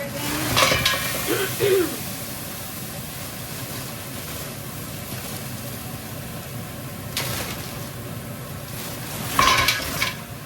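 Lightly frozen tomatoes sizzling and frying steadily in a pan, a continuous hiss with occasional utensil clatter and a word spoken briefly.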